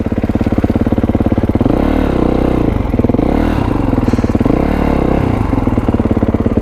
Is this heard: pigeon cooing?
no